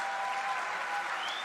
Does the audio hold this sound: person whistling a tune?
no